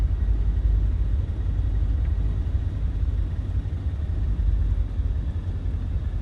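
A steady, low-RPM aircraft engine drones in Microsoft Flight Simulator 2020, with a dense rumbling hum that holds even and loud throughout and no voices.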